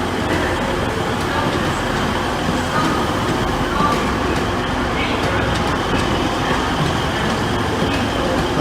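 Transpennine Express train standing at a station platform, heard as a steady, loud rumble and hum with faint clatter, continuous throughout.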